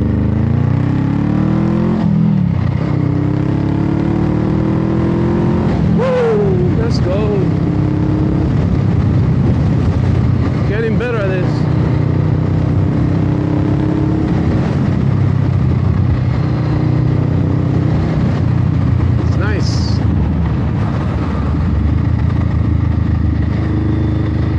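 A Honda Rebel 500 motorcycle pulls away and accelerates through several gear changes, its engine note rising and dropping repeatedly, then cruising with steady loud rumble and wind noise throughout.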